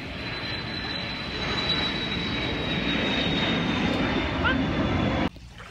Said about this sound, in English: Oh, got a nice plane going by.